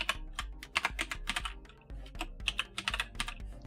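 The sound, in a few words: typing code on computer keyboard in Notepad++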